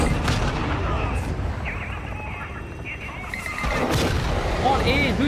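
Anti-aircraft gun firing at a Hind helicopter in Call of Duty DMZ: dense, continuous booming gunfire and explosions filling the scene, loud and close, with a slight lull midway before the barrage swells again.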